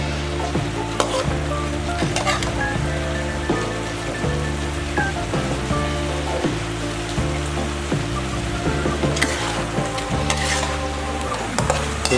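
Chicken stir-fried with holy basil in a hot pan, a loud continuous sizzle and crackle with rhythmic scraping and tossing strokes, close and alone.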